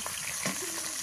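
Fish frying in a pan: a steady, close sizzle and crackle of hot oil fills the brief moment, with a faint voice in the background.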